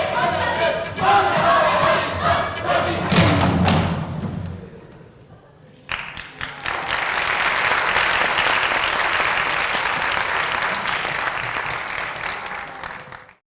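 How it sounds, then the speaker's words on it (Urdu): Theatre audience in a hall bursts into loud sustained applause after a play staged as a musical-chairs history piece, with thuds and cheering mixed in; a brief lull then a second dense wave of clapping that carries on steadily. "حاضرین نے بے حد پسند کیا اور تالیوں کے ذریعے داد دی"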